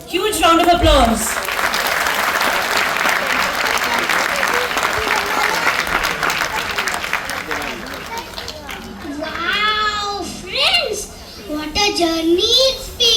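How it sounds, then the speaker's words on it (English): Audience applauding at a school annual function, a dense crowd clapping that carries steadily for several seconds, then gives way to children's voices and talk near the end. "Huge round of applause"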